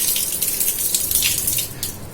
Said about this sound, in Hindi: अब मैं करूंगी इसमें पानी मिक्स।